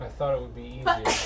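A single short sneeze bursts out near the end, right after a person speaks briefly.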